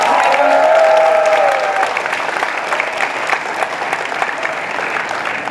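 Thunderous applause from a large audience at the opening of a university leaders colloquium, sustained and steady throughout, with a brief voice over the opening moments.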